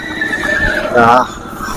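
A horse at the Yeola horse market in Maharashtra gives a loud, close whinny lasting about a quarter second, with market voices and background talk around it.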